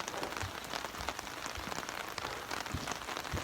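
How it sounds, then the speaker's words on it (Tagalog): Heavy rain pours down in Panglao, Bohol, a dense, steady hiss of drops striking surfaces with scattered louder splats, continuous and fairly close, with no voices. "umuulan ng malakas dito sa Bohol"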